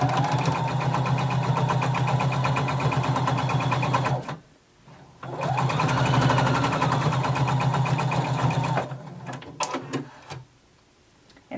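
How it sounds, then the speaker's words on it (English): Domestic sewing machine stitching two garment fabric pieces along a 5/8 inch seam, a steady close whirring run that stops about halfway for a short pause, starts again, then trails off in a few short bursts. "we're going to sew these together using 5/8 of an inch seam allowance"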